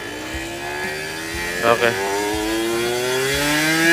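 A Honda NSR 50 two-stroke motorcycle pulls away on a test ride, its buzzy engine note climbing steadily in pitch as it accelerates, close and loud, with someone speaking briefly near the start.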